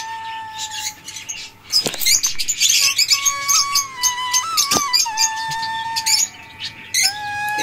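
Caged lovebirds in an aviary chattering with rapid chirps and squeaky calls over a steady whistling tone, busy and close throughout, with a brief lull near the end.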